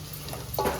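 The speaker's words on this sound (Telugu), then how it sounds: "దోరగా వేసుకోవాలి మరీ మాడకూడదు తాలింపు" Tempering spices sizzling in hot oil for amaranth dal, a soft crackling fry that swells briefly near the end, close and fairly quiet.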